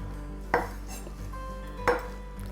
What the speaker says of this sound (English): Cut an onion without cutting your fingers.